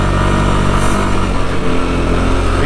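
A CFMOTO 550 four-wheeled ATV engine runs loud and close, a continuous mid-pitched mechanical drone with slight revving fluctuations and no talking over it.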